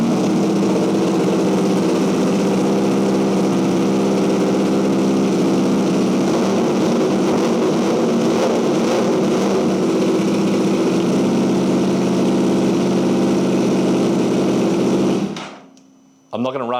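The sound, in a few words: Yamaha R1 motorcycle engine running loudly, near-straight pipe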